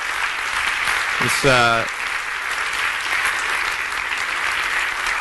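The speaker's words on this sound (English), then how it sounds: "let's just have a round of applause for the team at UNGC for putting this together" An audience applauds at a climate business forum, a steady broadband patter of many hands filling the room throughout, with a brief harmonic voice-like sound rising briefly near the start over the clapping.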